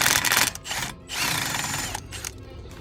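A power tool drives out a bolt during a brake and rotor job on a 2015 BMW 328i, sounding as loud, close whirring and rattling bursts broken by brief pauses, with no talking.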